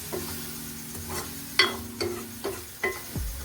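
A spoon scrapes and stirs dried fish thokku gravy in a pan, with a steady low sizzle underneath and several sharper scraping knocks against the metal spaced through it.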